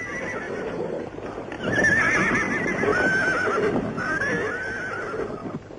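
Several horses whinny and neigh loudly and close by, with hooves clip-clopping beneath the calls throughout, the neighing growing stronger partway through.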